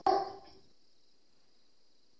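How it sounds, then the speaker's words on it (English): A single dog barks once indoors, sharp and fairly close, then it goes quiet apart from a faint steady high tone. "my dog's barking."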